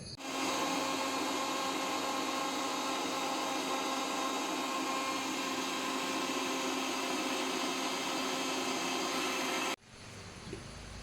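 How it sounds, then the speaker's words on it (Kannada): A mixer grinder grinding soaked rice batter for neer dosa whirs loudly and steadily for about ten seconds, then cuts off abruptly, leaving quiet room noise. "ಇವಾಗ ನೈಸಾಗಿ ಇದನ್ನು ಗ್ರೈಂಡ್ ಮಾಡ್ತೇನೆ"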